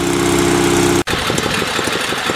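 A small Sears SS16 garden tractor engine idles steadily and loudly up close in winter cold, with a brief cut in the sound before the even chugging continues.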